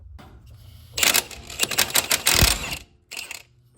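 Impact wrench removing bolts on a Jeep, a close, loud burst of rapid rattling hammering lasting about two seconds, then a quieter short burst after a brief pause.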